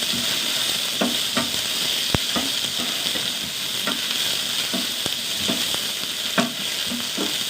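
Shallots and half an onion sizzle steadily in hot oil in a pan, a continuous close frying hiss with occasional soft stirring knocks and scrapes, no voices.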